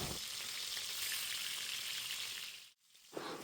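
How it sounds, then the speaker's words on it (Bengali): Rohu fish pieces from a pond, including the head piece, fry in hot oil with a loud, dense, close crackling sizzle that briefly drops out near the end before resuming, with no voices. "তেল গরম হয়ে গিয়েছে, এখন আমি এর ভিতর মাছ দিয়ে দিচ্ছি।"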